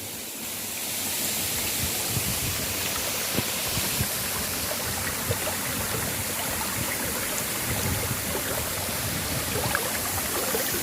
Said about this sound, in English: we have finally found the waterfalls